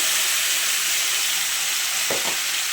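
Dried chilli, whole cumin, cardamom, cinnamon and cloves sizzle in hot oil, a steady, close, hissing fry with a brief stirring scrape near the end.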